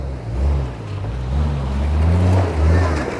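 A full-size truck crawling over boulders on the Signal Peak off-road trail, its engine rumbling low and loud in slow swells as it climbs, close by with no clear talk.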